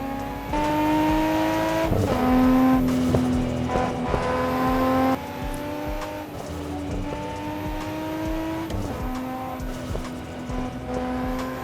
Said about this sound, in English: Being able to take it through these canyons and just feel the car move underneath me